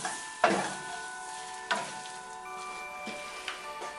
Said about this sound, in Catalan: Estem fent carbonara